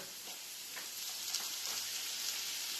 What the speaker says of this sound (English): And that's our mince, which we're going to add now.